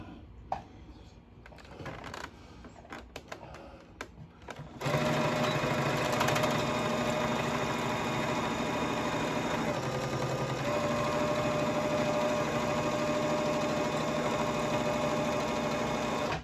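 A sewing machine runs steadily, close and loud, for about eleven seconds, double stitching a strap for a crash bag, after several short clicks and handling knocks at the start.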